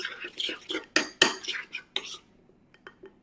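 A utensil clinks and scrapes briskly against a bowl while tart topping ingredients are quickly mixed, a run of sharp close knocks that tapers into a few faint taps.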